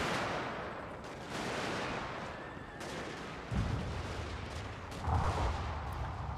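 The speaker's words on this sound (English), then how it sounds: "the cannons over here have found some sort of target" Cannon artillery fire in the video game Shogun 2: Fall of the Samurai, with dull booms and a few heavier thumps over continuous battle din.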